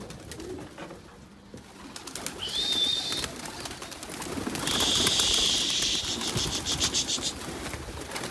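Pigeons coo and wings flutter nearby, with a whistling whir of birds taking off and settling over a low outdoor background.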